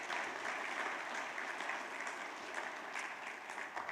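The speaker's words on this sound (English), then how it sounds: "you can give her a round of applause if you want." Applause for a quilt ministry organizer at a Quilts of Valor presentation, a steady round of clapping from a modest indoor audience lasting the full few seconds, moderately distant.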